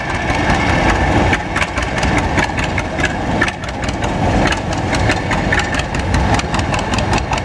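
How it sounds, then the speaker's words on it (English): A 1968 110 lawn and garden tractor with the first-year square fender design runs steadily close by, its loud, even engine drone continuing throughout with slight rhythmic pulsing and no pauses. "A 1968 110 lawn and garden tractor owned by Parker Winfield"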